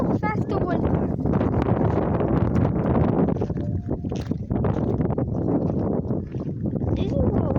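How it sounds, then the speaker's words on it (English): Strong wind gusts roar and buffet across the microphone without a break, loud and close, with faint rattling and knocking beneath the rush. "That's how fast the wind was."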